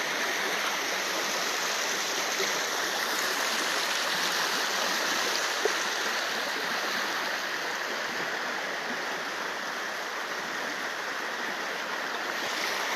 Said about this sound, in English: let me give you another look at the creek here.